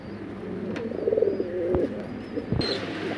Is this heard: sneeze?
no